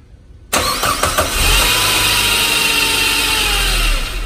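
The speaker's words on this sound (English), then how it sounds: "Crank it over for like 2 seconds." A 2006 Saab 9-5 Turbo cranks with a short burst of starter clatter, then catches and settles into a steady, loud idle that runs on without any talk.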